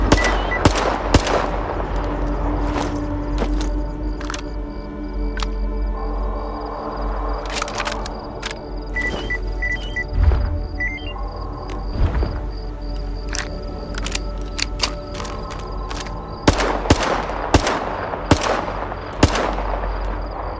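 Gunfire from a modded weapon in the video game S.T.A.L.K.E.R. 2, with sharp shots in bursts and single cracks spread through the clip, loud and close over steady game ambience.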